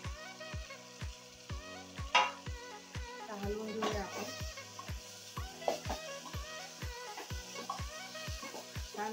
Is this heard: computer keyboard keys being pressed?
no